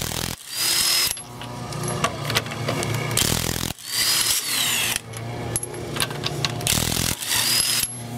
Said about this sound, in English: But if you do have an impact gun, you don't really need to do that. Because this happens.